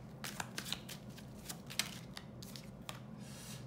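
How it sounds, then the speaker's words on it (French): Tarot cards shuffled for a nine-card spread, a run of crisp riffling flicks and soft slaps close by over a low steady hum, with no talking. "On va faire un tirage en 9 cartes."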